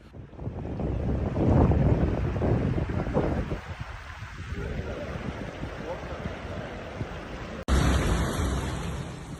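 Storm wind gusts roaring against a microphone on the Atlantic coast during a severe super storm, a loud continuous buffeting rush with crashing surf beneath, easing slightly midway before a sudden cut to another blustery stretch.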